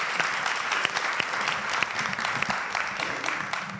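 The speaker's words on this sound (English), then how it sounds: "Give our panelists a round of applause." An audience applauds panelists at a public forum in Richmond, steady close clapping with individual claps distinct throughout roughly four seconds.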